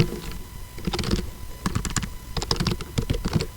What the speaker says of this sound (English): type in your email address and your password